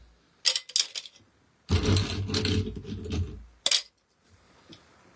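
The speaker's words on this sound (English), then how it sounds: "now we're going to do some shaking. So we're going to get our ice ready here, and it's going to be loud" Ice rattles hard inside a cocktail shaker in a couple of loud shaking bursts, close and harsh, with short clinks before and after.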